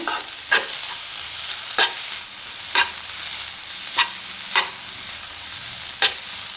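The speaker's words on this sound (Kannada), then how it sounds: "ಕ್ಯಾರೆಟನ್ನು ಏನು ಜಾಸ್ತಿ ಬೇಯಿಸೋದೇನು ಬೇಕಾಗಲ್ಲ ಸ್ವಲ್ಪ ಫ್ರೈ ಆಗಿ ಅದು ಬೆಂದ್ಕೊಂಬಿಡುತ್ತೆ" Carrots fry in a pan with a steady sizzle, broken by six sharp, evenly spaced scrapes as they are stirred, close and alone without any talk.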